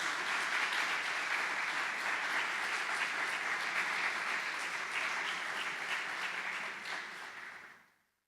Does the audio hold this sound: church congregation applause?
yes